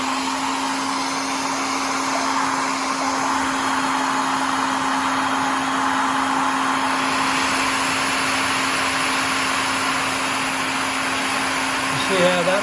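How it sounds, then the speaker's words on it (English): A hair dryer drying paint on a model railway landscape and trackbed blows continuously with a steady whooshing hum and a constant tonal drone, loud and close for the whole stretch. "I'll use a hairdryer. So again, it'll be a bit noisy"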